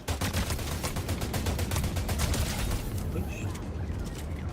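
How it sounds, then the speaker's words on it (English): Rapid bursts of automatic gunfire in a video game, loud and dense, with shots crackling in quick succession almost throughout and easing slightly toward the end. Voices may be mixed in beneath the shooting. "Someone shooting at me?"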